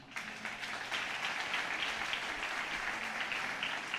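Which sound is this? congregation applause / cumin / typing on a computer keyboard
congregation applause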